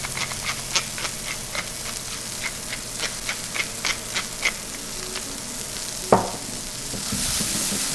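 Wild mushrooms, seasoned with salt and pepper, sizzle steadily in a pan for a risotto, with a string of small crackles and pops over the frying hiss and one sharper clack partway through.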